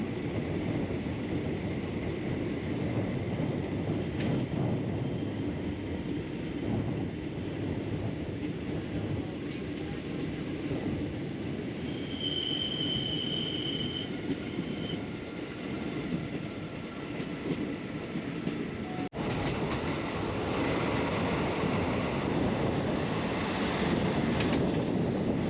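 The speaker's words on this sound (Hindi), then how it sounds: "अभी थोड़ी देर में हमारी ट्रेन लास्ट स्टॉप जो गोवा का है वहां से पार करेगी" The 12133 Mumbai CSMT–Mangaluru Express runs through Goa, heard from on board as a continuous rumble of wheels and carriage noise with faint clatter throughout.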